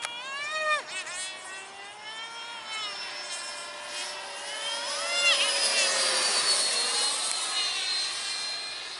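A radio-controlled T-33 model with an 80mm electric ducted fan whines as it flies, a high tonal scream with pitch sweeps as it passes and banks, fairly loud and continuous against open outdoor air.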